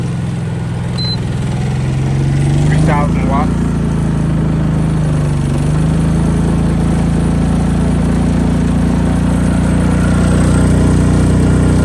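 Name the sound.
Honda generator running with a heater plugged in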